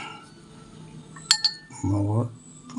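A paintbrush clinks against a steel glass of water used for watercolour painting, a couple of light metallic taps followed by a brief swirl, quiet against a faint background hum.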